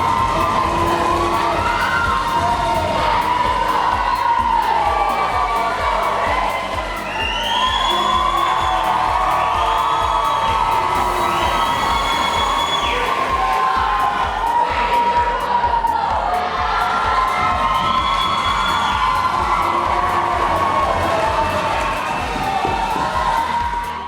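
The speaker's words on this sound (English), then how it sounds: "Wow, the home crowd in round 3." A home crowd at a high school meet in Granville yells and cheers loudly throughout, with sustained shrill voices rising and falling over a continuous roar.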